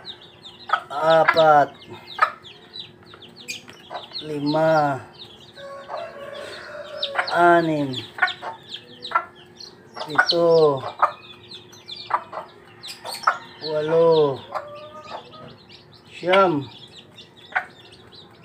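A hen clucks repeatedly while newly hatched chicks peep faintly nearby, and a person counts aloud in Filipino in a calm voice over the birds.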